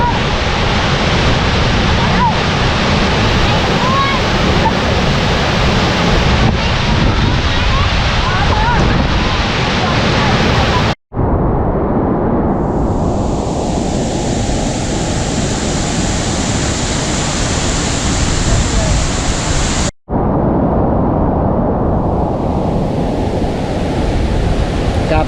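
Heavy rushing water of Khlong Lan waterfall in late rainy season, a loud, continuous broadband roar heard up close with wind buffeting, broken by two abrupt cuts between segments.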